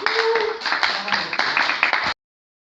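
A class of students clapping for a group after its presentation, a brisk burst of hand claps with some voices mixed in, ending abruptly after about two seconds.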